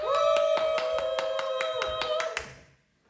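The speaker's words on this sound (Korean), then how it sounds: "첫 번째 출연자에게 박수해주세요." Clapping at a church family-day program for children, a quick, even run of about a dozen sharp claps over a sustained tonal voice or instrument that then fades out.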